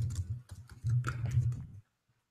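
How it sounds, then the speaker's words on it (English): Fingers tap quickly and irregularly on a nearby computer keyboard, with a low hum running beneath the clicks, before everything cuts off abruptly into near silence. "You can hear me typing."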